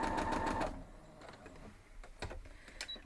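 A sewing machine stitching a quilt block runs in a brief, fast, whirring burst, then stops after under a second. Only faint clicks and handling noises follow.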